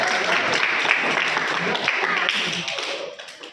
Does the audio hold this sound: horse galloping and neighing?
no